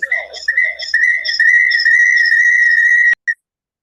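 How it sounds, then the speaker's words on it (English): A steady, high-pitched whistle-style censor tone covers a spoken swear word, running unbroken for about three seconds, then a short second blip follows after a brief gap. "They use that sound anytime I use bad words. They gotta delete that cuss word."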